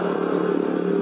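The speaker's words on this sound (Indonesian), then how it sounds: "Karena sekarang saya lagi naik motor Lexi" Steady hum of a Yamaha Lexi scooter being ridden through heavy city traffic, a continuous mid-pitched engine drone with wind rumble, close and unbroken.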